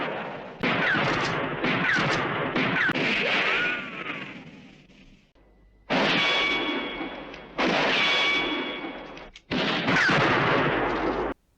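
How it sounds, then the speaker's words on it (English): Western twang gunshot effects from the 1964 film Fistful of Dollars: several loud, echoing gunshots with ringing, whining ricochet tails, fired in quick clusters over an ongoing film soundtrack, close and booming. "I especially love that Western twang gunshot effect."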